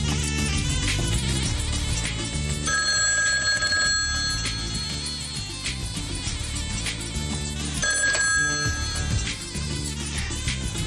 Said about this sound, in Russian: Алло. Месье Дюваль у телефона